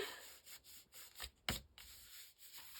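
Paper pages in a handmade mini album are rubbed down and smoothed by hand, with soft, faint, uneven swishing strokes and a single light tap partway through.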